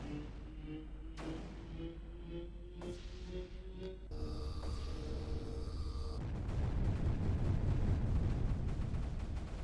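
Explosions in the strategy video game Creeper World 3, a steady barrage of booming blasts and crackling detonations that grows denser and louder, with game music and effects underneath.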